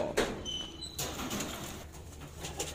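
Racing pigeons coo softly at feeding time, with faint wing flaps and a quiet, distant background.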